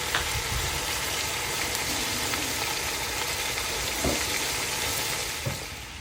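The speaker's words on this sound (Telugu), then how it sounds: "అది వేడయ్యాక అన్ని మటన్ పీసెస్ అందులో వేసి బాగా రోస్ట్ చేయాలి" Steady, loud sizzling of mutton pieces roasting in hot oil and ghee, continuous throughout with a few brief clinks of a utensil against the pan.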